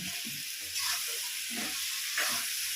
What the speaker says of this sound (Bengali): এবার আমি এর মধ্যে দিয়ে দিচ্ছি ভেজে রাখা আলুগুলোকে।